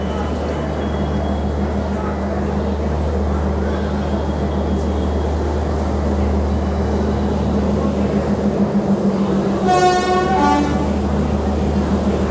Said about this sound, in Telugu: అది కూడా మన ట్రైన్ షంట్ అవుతుంది ఇప్పుడే.